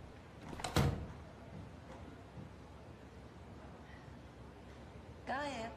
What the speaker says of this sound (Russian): Можешь закрыть дверь?